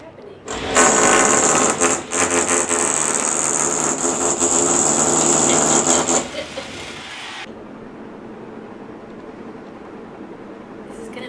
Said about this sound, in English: Just drilling through the wall.